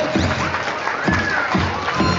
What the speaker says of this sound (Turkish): Pekala kahramanlarımızı alkışlayalım.